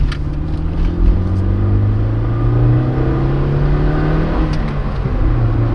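A Toyota MR2 Mk1 mid-engine sports car revs and pulls strongly through the gears, a loud droning hum that rises in pitch, heard from inside the car.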